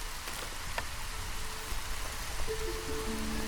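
Steady storm rain patters in the video game Against the Storm, a dense even hiss of drops on surfaces with a few faint tonal game sounds rising near the end.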